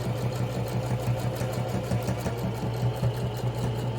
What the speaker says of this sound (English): now we're going to start to stitch to close the opening